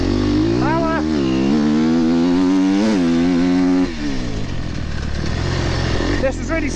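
Kawasaki enduro motorcycle engine at a British sprint enduro event, loud and close, revving up and down in rising and falling sweeps while a rider talks over it.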